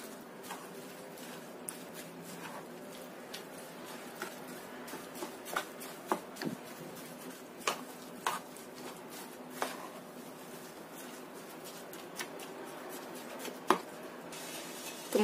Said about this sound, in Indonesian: Kita aduk sampai rata semuanya biar tercampur ya, singkong dan juga susu dan kelapanya.